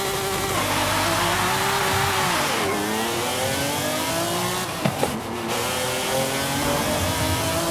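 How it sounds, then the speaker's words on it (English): A 1997 McLaren F1 GT supercar engine in Forza Horizon 5 revs loudly and steadily close up, its pitch rising and falling in sweeping harmonic runs, with a brief dip and a few sharp blips near the middle. "The 1997 McLaren F1 GT is a rare and highly sought-after supercar"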